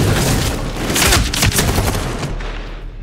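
Rapid bursts of automatic gunfire and heavy booms from the combat game Medal of Honor Warfighter, loud and continuous, with dense overlapping shots that taper off near the end.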